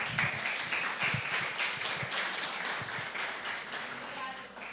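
At a Portuguese-language lecture, an audience claps with distinct individual hand claps mixed into a lighter crowd patter that tapers gradually, and faint voices are heard underneath.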